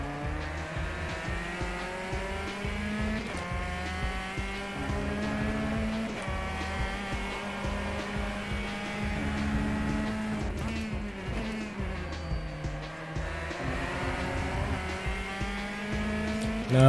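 Race car engine in a touring-car race at Interlagos, Copa Petrobras de Marcas, revving hard with downshifts into second gear and a dip and recovery in pitch, loud and steady throughout.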